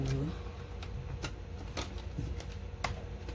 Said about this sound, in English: start shuffling these cards